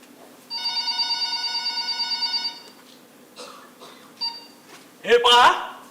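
A telephone rings in a staged one-act play, giving a close, clear electronic trill of rapid pulsing rings for about two seconds, followed by fainter clicks and a brief voice.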